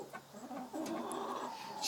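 A broody hen sitting on eggs clucks softly in a few short, low, fairly faint clucks over light background noise.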